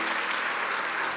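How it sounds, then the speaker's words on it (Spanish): Thick congregational applause during a church sermon, a steady wash of many hands clapping, loud and continuous for a moment with no voice on top. "Dale un aplauso fuerte al Espíritu Santo de Dios"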